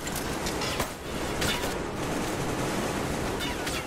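Machine gun fire in Metro Exodus, a dense, continuous burst of rapid shots heard at moderate distance, noisy and sustained across the whole stretch without clear separation between rounds.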